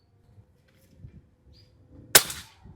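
A single sharp, loud crack of a Daystate 500cc PCP air rifle shot rings out close by after a few seconds of quiet low background noise.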